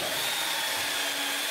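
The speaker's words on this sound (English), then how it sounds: "removed it, and drilled more holes" A power drill whines steadily and loudly, boring holes in wood for spindles while restoring a roll top desk; the tone holds even throughout the short stretch.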